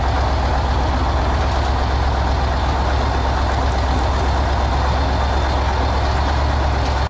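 An ATS-59G tracked tractor hauling a trailer turns and drives off, its heavy diesel engine giving a loud, continuous low rumble and clatter close by with no pauses.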